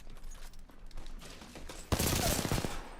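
Rapid automatic gunfire from the video game Apex Legends erupts after a second of quieter in-game sounds, a dense, loud burst of shots filling the final second.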